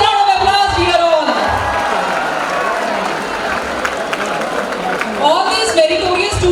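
A college freshers' day crowd bursts into applause and cheering with whoops, a loud, dense, close roar that swells and continues throughout, with voices talking over it.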